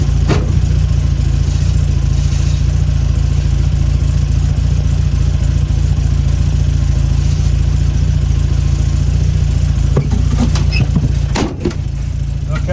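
A classic Mini engine fitted with 140 carburettor jets idles at a steady, even mid-pitched hum, close and constant, with a few brief knocks near the end.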